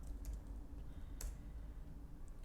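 Keys tapped on a computer keyboard while entering a number into a Python program, a few faint, sparse clicks over a low steady background hum, quiet and close, with no talking.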